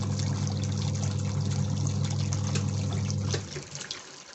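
Water runs steadily into a Hisense 11 kg twin tub washing machine, a constant close rushing fill with a low hum underneath that cuts off and settles near the end.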